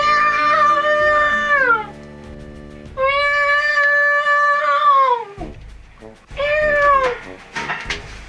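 A human voice imitates a cat with three long, drawn-out meows that bend downward at the end. The meows are loud and close, with brief pauses between them.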